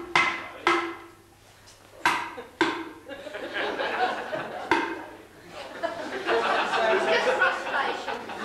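Sharp, irregular hammer blows ring out several times from someone opening barrels. Chatter and laughter rise between and over the strikes, and a low steady hum runs underneath.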